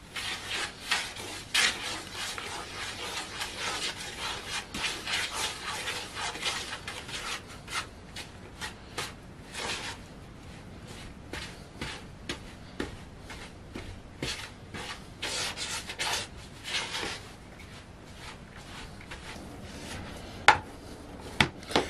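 Bread dough of all-purpose flour, salt and water being stirred and mixed by hand, giving a steady run of soft rubbing, scraping strokes with occasional sharper knocks, close and fairly quiet, with no talking.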